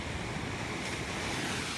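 High storm surf pounds the California coast beside a washed-out beachfront road, a loud continuous roar of breaking waves mixed with wind noise buffeting the microphone, with no talk.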